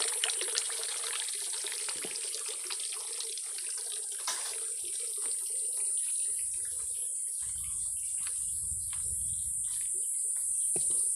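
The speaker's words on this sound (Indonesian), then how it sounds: "Oh ini cukup gede juga airnya mah ya, cukup jernih tuh ya kawan." Clear water flowing in a village stream in rural West Java, a steady rushing wash with a high insect drone running above it. Low rumbles of handling noise appear near the end, and no one speaks.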